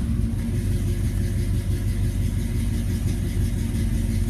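A 1967 Ford engine with a 600 CFM Edelbrock carburetor and no choke idles steadily just after a cold start, a loud, close, continuous low rumble without any pauses.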